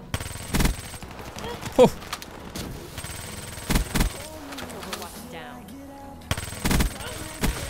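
Bursts of Vesper submachine gun fire in Black Ops 3 come in several short, loud volleys with gaps of game noise between them, and a player's voice exclaims briefly.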